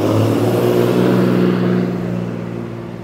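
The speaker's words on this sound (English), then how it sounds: "As the loud truck goes by" Loud truck driving by on a street in York, Maine, a heavy droning engine rumble close and prominent, holding steady then easing off as it passes.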